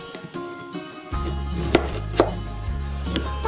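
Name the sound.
knife slicing a lime into a lime wheel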